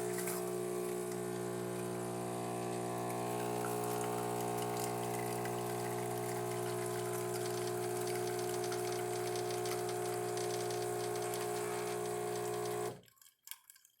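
A DeLonghi Magnifica espresso machine pours a two-ounce shot, a steady loud pump hum with a thin liquid stream running evenly throughout, then stopping abruptly near the end.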